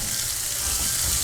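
Finely chopped onion sautéing in hot oil for a spicy ginger chicken, a steady, close, even sizzling hiss with a faint low rumble beneath and no talk.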